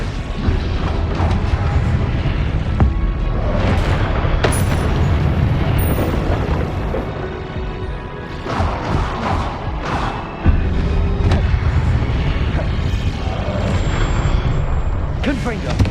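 Repeated Confringo fire spell explosions in Hogwarts Legacy, loud booming blasts stacked amid constant combat noise, with a voice talking over the fight.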